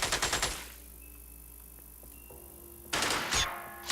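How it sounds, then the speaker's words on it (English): A rapid burst of gunfire in the turn-based strategy game Xenonauts X-Division opens the moment, followed by a quiet pause, then another loud volley of shots and impacts. "Nah, we can shoot again."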